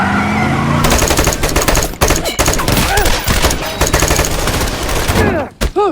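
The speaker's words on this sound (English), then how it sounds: "Guns blazing." Gunfire in the Jack Reacher film scene with mafia soldiers, loud dense machine-gun bursts rattling almost continuously, with brief gaps and a few echoing shots near the end.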